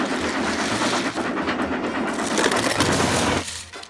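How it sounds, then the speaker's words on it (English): A train in a children's farm cartoon featuring Tyler the tractor makes a loud, steady rumbling clatter that holds for several seconds, then drops away near the end, with no talk over it. "Stop right there, train!"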